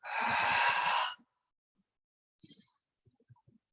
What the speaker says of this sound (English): Notice my exhale is a little bit forceful.